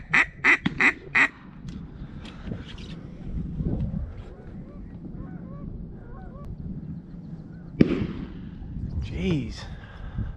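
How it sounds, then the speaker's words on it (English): Wild ducks call near a marsh during an opening-day waterfowl hunt in the south zone, with a burst of loud honking calls at the start, then scattered quacks and bird noise over steady background, a sharp sound near the end, and voices talking. "That's a duck."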